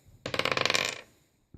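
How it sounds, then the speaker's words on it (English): Dice rolled for a 2014 Totally Certified football card box break: a burst of quick rattling clicks that tumble for about a second and settle, then a short tap, close and clear with no talk. "We'll roll the dice."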